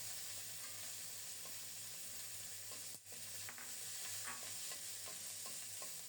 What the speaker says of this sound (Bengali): কাঁচামরিচগুলো কিছুক্ষণ ভেজে নিয়ে